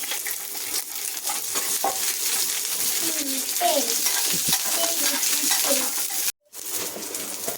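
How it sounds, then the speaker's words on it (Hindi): Green chilies and garlic sizzle in hot oil in a pan, a steady close frying hiss with a few light stirring clinks of the utensil and a brief drop-out near the end. "इसे इस तरह से थोड़ा पहले गरम कर लेंगे, हरी मिर्ची और लहसुन"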